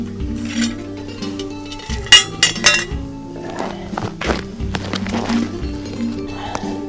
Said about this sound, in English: Get this lid off.